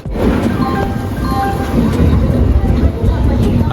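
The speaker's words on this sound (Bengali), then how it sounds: "সবাই দেখতে হচ্ছে এখন কিন্তু খড়গপুর ঢুকছে আমাদের ট্রেন" The Dhauli Express pulls into Kharagpur station with loud, continuous rumbling and rhythmic clatter of the carriages on the tracks, heard from on board.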